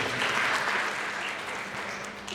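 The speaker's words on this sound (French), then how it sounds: "Applaudissez pour vous mes chers." Applause at a cultural day for pupils and students from Yélimané, a dense burst of crowd clapping that starts full and tapers slightly over a couple of seconds.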